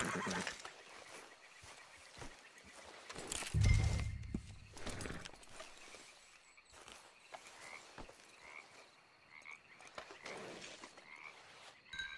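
In Red Dead Redemption 2, a horse gives a loud, close whinny and snort partway through while hooves clop along under scattered clicks and rustles.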